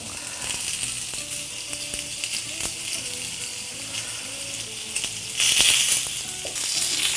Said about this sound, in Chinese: 牛排的话一定要高温下去